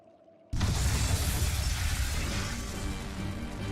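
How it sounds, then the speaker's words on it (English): Stores of flamestone, sulfur and oil blow up in the game Tales of Berseria: after a quiet start, a sudden loud blast hits and decays into a long crackling, rumbling roar. "Tools of flamestone, sulfur, and oil. Those will explode."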